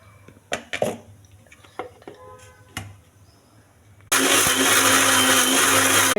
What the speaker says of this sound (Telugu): మిక్సీ వేయాలి